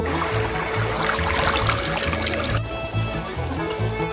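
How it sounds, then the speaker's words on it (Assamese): River water flowing at a picnic spot in Saralpara, a close, steady trickling and pouring rush with faint low-pitched background sounds beneath it. "কাণৰ ওচৰত মানে অকল পানীৰ সেই শব্দটো শুনি লওক অকল পানীৰ শব্দ আৰু একো নাই"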